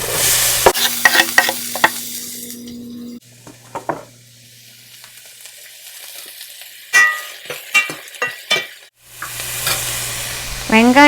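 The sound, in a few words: chopped onions frying and being stirred in a pan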